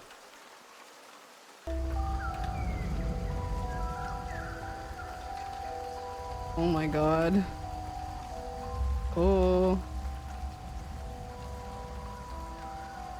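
Steady rain ambience plays as a background track during a Halloween live stream, a constant hiss of falling rain throughout. A voice gives brief exclamations, and a few tonal swells rise over the rain.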